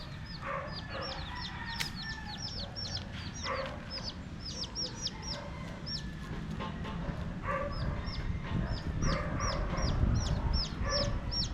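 Several hens cluck and chirp repeatedly over a constant rustling farmyard background, with occasional louder squawks scattered throughout.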